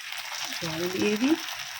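Water poured into a pan of eggplant and greens frying with green chili, cumin and turmeric, giving a close, continuous sputtering sizzle while a voice speaks briefly over it.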